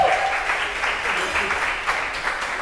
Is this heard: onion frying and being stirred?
no